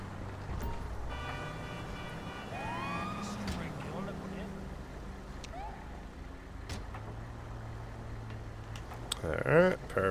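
An ambulance siren wails in GTA 5 during a paramedic response near Pillbox Hill Medical Center, a moderate rising and falling tone under traffic noise with speech over it and a louder burst near the end.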